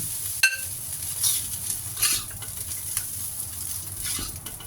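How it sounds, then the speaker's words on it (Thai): A utensil scoops and scrapes curry-sauce fried rice from a metal pan onto a plate, with a few sharp clinks and soft scraping over a faint sizzle, no talking. "ตักใส่จานก่อนนะคะ"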